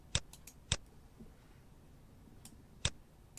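A few sparse, quiet clicks of keys tapped on a keyboard while entering a postal code into a numeric keypad, irregularly spaced in a hushed room.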